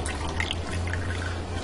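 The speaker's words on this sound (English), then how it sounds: "Now I'm going to add in 4 cups of beef stock" Beef stock pours from a 4-cup carton into a pot in a kitchen, a smooth steady liquid trickle over a low hum, close and moderate in volume.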